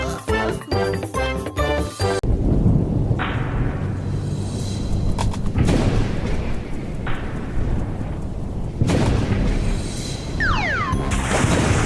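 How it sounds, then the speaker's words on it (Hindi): A thunderstorm in an animated cartoon: after a brief musical opening, a loud, steady roar of wind and rain fills the scene, broken by several heavy crashes of thunder. "अरे जल्दी करो, तूफान आने वाला है।"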